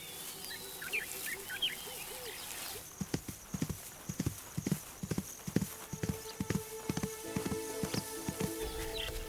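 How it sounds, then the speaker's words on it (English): Zebra hooves pound in a quick, irregular galloping rhythm of hard thuds that runs for several seconds at moderate distance. Faint bird chirps are heard briefly before the hoofbeats begin. "A kick from the hard, sharp hooves of a zebra can be fatal."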